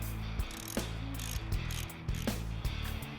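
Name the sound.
ratchet loosening Kawasaki KLR650 bottom shock bolt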